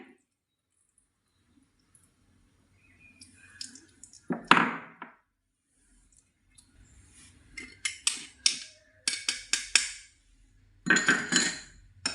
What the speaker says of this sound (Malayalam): ഈ പുളിയുടെ മിക്സ് ഒന്ന് അരിച്ചൊഴിക്കാം